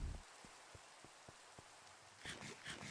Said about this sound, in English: Duck Boy shows up, starts to rain on the server.